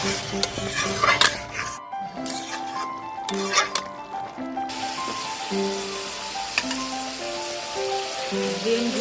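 Eggs stir and fry in a dal curry, a close, continuous sizzle broken by scraping stirs and a few pan knocks, with faint tonal sounds running underneath.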